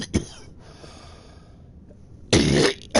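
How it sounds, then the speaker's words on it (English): A harsh, close cough bursts out near the end after a short sharp throat sound at the start, with quiet breathing in between. "nasty cough. Please excuse."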